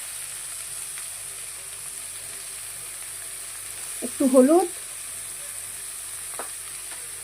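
A semolina upma tempering of mustard seeds, dried red chillies, curry leaves and salt fries in a pan with a faint, steady sizzling hiss, broken once by a brief spoken voice in the middle.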